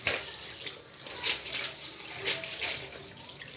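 Water splashes and pours in rhythmic surges as pieces of meat for kilishi are washed by hand in a basin, moderately close with soft sloshing swells roughly every second.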